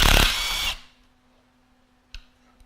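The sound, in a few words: cordless screwdriver loosening T30 screws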